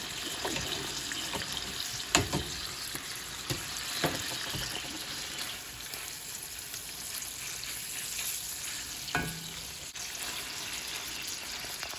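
Steady sizzling of chicken sautéing in a pan, continuous and close, with occasional clinks and scrapes of a utensil.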